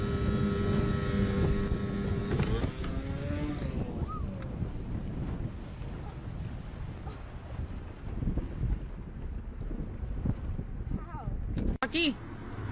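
A motorboat ride playing on a television clip, with wind rushing and a droning motor under continuous speech, ending in a sudden sharp crash-like burst.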